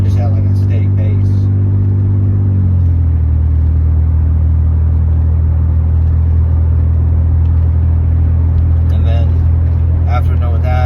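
A stationary exercise bike pedaled at resistance level 12 drones with a loud, steady low hum, its pitch dropping slightly after the first few seconds, while a voice talks over it.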